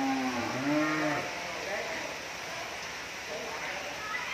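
Cattle mooing at a farm before being loaded onto a truck for delivery, with two or three low, drawn-out calls near the start followed by fainter lowing over a steady background hiss.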